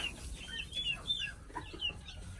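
Native Thai chickens cluck and chirp in short, scattered calls at moderate distance, overlapping one another in a busy barnyard chatter.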